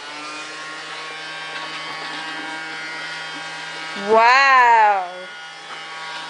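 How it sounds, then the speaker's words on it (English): A small vacuum cleaner hums steadily and close for several seconds, with its motor pitch rising and falling briefly near the end while a voice speaks over it. "Can you vacuum over here?"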